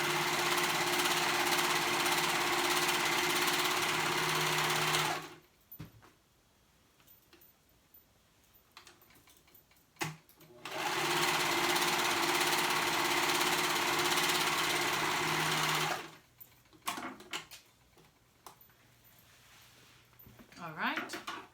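A sewing machine stitching the short raw edges of fabric bands runs in two loud, steady whirring bursts, separated by quieter stretches of handling noise and faint talk.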